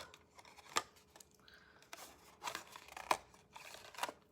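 Scissors cut cardstock along a score line in a series of crisp, close snips spaced irregularly, quiet and free of talk.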